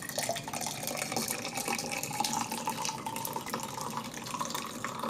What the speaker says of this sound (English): now I have a nice hot carafe of coffee that we're just going to pour.